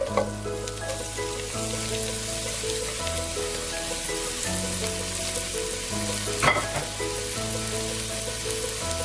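Sliced onion drops into a pan of frying chicken thoran and sizzles steadily, a constant crackling hiss with a brief louder burst midway, under a faint background tone and no talking.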